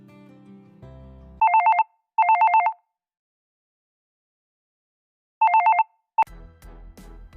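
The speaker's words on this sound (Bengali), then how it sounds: "হঠাৎ মোবাইল বেজে ওঠে" A mobile phone rings in bursts of rapid electronic trilling, two close together, then a pause and a third, clear and alone, before other sound comes in at the end.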